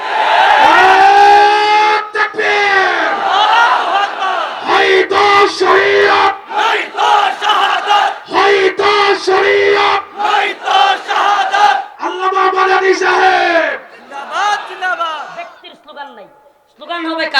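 Crowd at an Islamic religious rally chanting slogans: many voices shouting loud, rhythmic phrases in unison, with short gaps between the chanted lines and a strong, close sound throughout.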